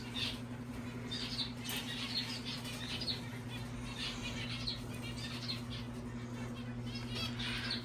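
Exotic finches in a tower cage give a steady soft fluttering of wings with light chirps scattered through it, heard close and continuous over a low electrical hum, with no talking.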